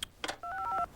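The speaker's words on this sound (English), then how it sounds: "Show us how easy it is to dial 1-800-COLLECT." Telephone keypad dialing 1-800-COLLECT, a quick run of clear two-tone beeps pressed one after another, close and clean, following a few brief knocks.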